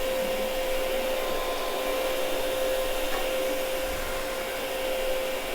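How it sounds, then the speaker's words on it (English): A counter-rotating brush carpet cleaning machine runs upstairs on mildly soiled carpet, giving a steady, loud motor whine with a constant hum and no pauses, heard alone for the whole stretch. "using a counter-rotating brush machine upstairs in these two rooms"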